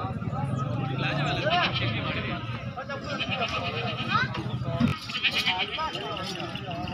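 Goats bleat repeatedly amid a busy livestock market, close and loud, with a steady crowd babble and people talking throughout.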